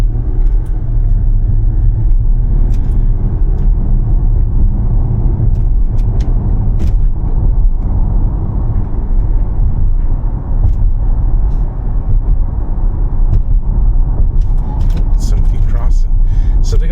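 Car interior drive past roadside businesses in Alberta, with a steady loud low road and engine rumble throughout and occasional small clicks and knocks.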